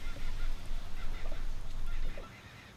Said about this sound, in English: the distant calls of birds